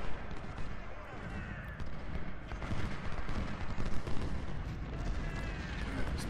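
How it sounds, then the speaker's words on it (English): Artillery fire in the video game Ultimate General: Civil War forms a dense, continuous rumble of booms and crackling volleys, moderately loud and distant-sounding, with a voice speaking over it at times. "He's using up a ton of supply firing with his artillery over here with very little to show for it."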